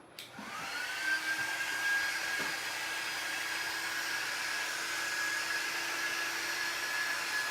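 Hair dryer or heat tool blowing steadily while drying a vintage dictionary craft print; it starts up with a click, then holds a continuous close whooshing whine with a thin high tone, no talking.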